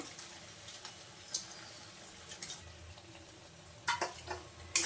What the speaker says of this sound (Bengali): মশলার সঙ্গে খুদের চালটা আমি একটু খুব ভালোভাবে নেড়ে চেড়ে কষিয়ে নেব